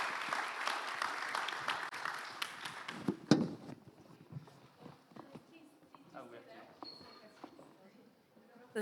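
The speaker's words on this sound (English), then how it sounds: "Can I ask you to thank our panel with a round of applause?" Round of applause from a conference panel audience, clapping dense at first, then thinning into scattered claps and murmured talk, with voices coming in toward the end.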